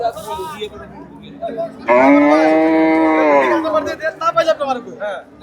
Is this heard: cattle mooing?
yes